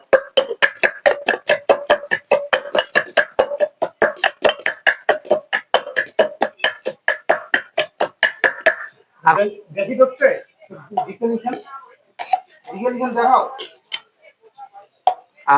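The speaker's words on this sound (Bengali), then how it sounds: "চলো মশলাটা বাটি।" Masala paste ground by hand on a grinding stone for a chicken and fish meal in a rural school kitchen: steady rhythmic scraping strokes, close and loud, then clattering, irregular handling noises with some talk.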